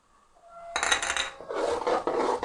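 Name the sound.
about half a spoon of cumin seeds added to frying onions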